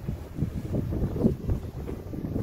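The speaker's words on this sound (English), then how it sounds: "It's very windy." Strong outdoor wind buffets the microphone in uneven gusts, a low rumbling blustery noise heard alone with no speech.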